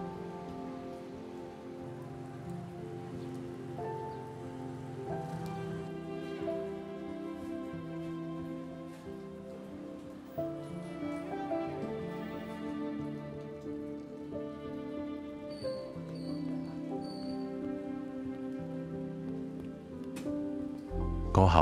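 Steady rain falls throughout on a rainy day near Slim River, a continuous soft patter over the whole stretch, with what sounds like music or tonal background layered beneath it and no talking.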